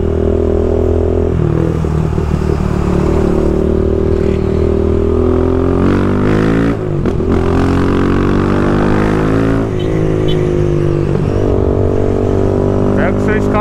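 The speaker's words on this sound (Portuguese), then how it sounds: "Pega o seu escapinho, coloca na sua moto. Vai deixar ela mais solta." A motorcycle with an aftermarket exhaust idles loudly up close with a throaty rumble, punctuated by several sharp revs that rise and fall.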